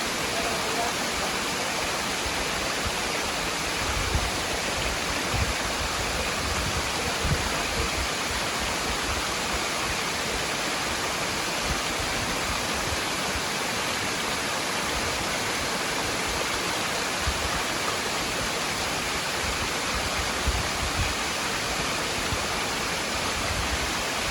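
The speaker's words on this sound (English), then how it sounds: "King Creek Falls." King Creek Falls on the Foothills Trail, a waterfall roaring as a loud, dense, unbroken wash of water noise that holds steady throughout.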